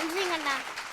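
An audience gives a brief burst of applause for the speaker Megashree, with a voice carrying over the clapping.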